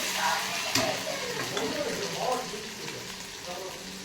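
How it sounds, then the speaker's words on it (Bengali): Water swishes and bubbles steadily as it is stirred in a cooking pan while bhola fish curry is being made. The sound stays fairly loud and continuous throughout. "জলটা নাড়িয়ে নেব।"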